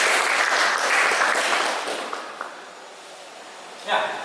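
Classroom applause at a vocational high school, dense clapping that starts loud and thins out gradually, with a brief burst of renewed clapping near the end.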